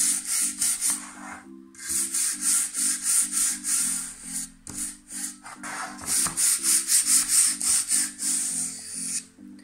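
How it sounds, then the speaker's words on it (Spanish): Wooden board rubbed by hand with sandpaper, steady rhythmic back-and-forth rasping strokes, close and clear, with a brief pause near the start and no speech. "Lo primero que tenemos que hacer es lijar nuestra tabla para quitar las imperfecciones"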